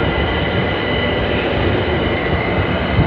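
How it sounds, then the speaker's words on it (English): London Overground Class 378 train 378203 arriving from Dalston Junction at Clapham Junction, a steady broadband rumble of wheels and motors holding at constant loudness throughout, close by with no voices. "As we have 378203 coming in from Dalston Junction."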